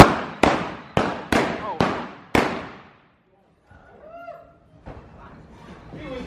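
Six sharp gunshots crack in quick succession during a staged Wild West gunfight show in Dodge City, Kansas, each ringing out with a short echo, followed by fainter crowd noise and distant voices.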